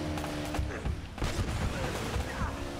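Rapid bursts of gunfire and booms from the Uncharted: Drake's Fortune video game form a dense, continuous barrage at moderate loudness, mixed with game action noise.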